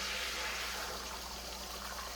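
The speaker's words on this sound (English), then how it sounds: "So now that the oil is hot, I'm gonna pour my eggs in." Beaten eggs seasoned with salt and pepper poured into hot oil in a pan while making chicken fried rice, giving a steady, loud broadband sizzle and hiss that holds without a break and has no voices over it.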